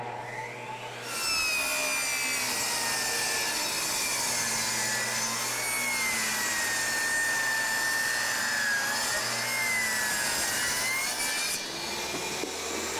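A saw cuts baseboard at an angle for a basement finishing job, a long steady whining, rasping cut lasting many seconds, close and loud, starting and stopping abruptly.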